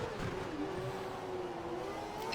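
Formula One car engine in the F1 2012 racing game, leaving the pit lane at steady speed: a continuous, loud engine tone that rises slowly in pitch over a low rumbling road noise.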